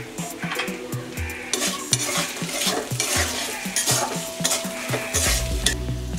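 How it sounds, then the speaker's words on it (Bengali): Raw jackfruit curry with ginger paste and spices being stirred in a pan: steady frying sizzle with repeated rhythmic scrapes and clinks of the spoon against the pan, close and continuous, no talk. "এগুলো আমি এবার ভালোভাবে কষিয়ে নেব।"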